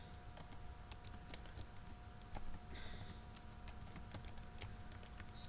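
Steady bursts of keystrokes on a computer keyboard as an address is entered into accounting software, quiet clicks in an uneven rhythm over a low hum, with no voices.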